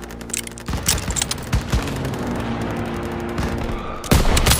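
Rapid bursts of rifle and machine-gun fire in a World War II battle in the game Call of Duty WWII, loud close volleys crackling over a constant rumble of distant combat, ending in a heavy burst.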